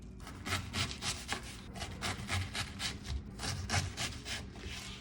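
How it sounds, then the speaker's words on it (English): A knife cuts cabbage into thin wedges, with steady rhythmic slicing and rubbing strokes that repeat close and fairly quiet, alone without talk. "I want to cut these in like thinner wedges."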